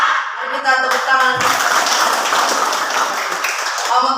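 Classroom of Indonesian schoolchildren clapping hands together in a dense, continuous burst that runs throughout, with children's voices and a leading voice mixed in at the start and end.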